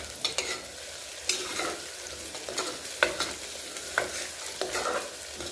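Tomatoes are stirred into a sizzling dhaba-style paneer curry base in a pan, with repeated scraping strokes of a spoon over a steady frying crackle, close by and with no voices.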